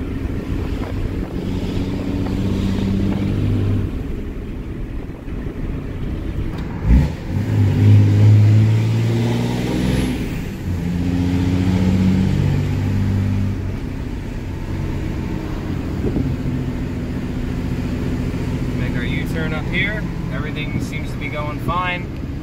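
A 2006 Dodge Cummins diesel pickup on a test drive drones steadily from inside the cab, its engine tone shifting as it runs, with wind noise around it and a person speaking over it.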